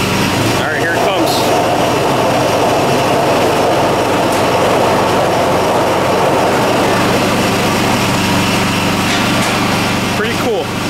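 A loud tree netting machine at a Christmas tree farm wraps a tree, giving a constant, dense mechanical drone with a few faint knocks and rattles layered over it.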